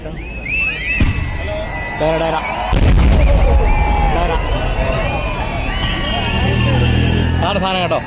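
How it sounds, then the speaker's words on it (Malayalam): Temple fireworks (vedikkettu) by the Thekkumuri desham at Puthiyakavu temple in Kerala: loud, booming bursts and sharp cracks from close by, followed by a rolling rumble, with people talking and calling out over the blasts. "നല്ല വെടിക്കെട്ട് സൗണ്ടാണ് കേട്ടോ."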